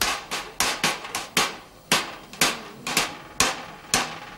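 Regular, sharp hammer blows ring out one after another at a steady pace on a metal pipe, about ten strikes close by with no talking.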